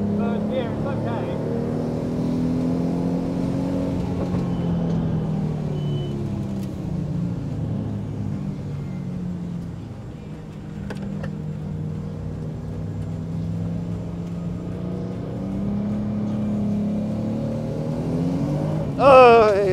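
A race car engine accelerating in third gear around Donington circuit drones steadily from inside the cabin, pitch rising and falling through the run, with a dip midway and a sharp burst at the end.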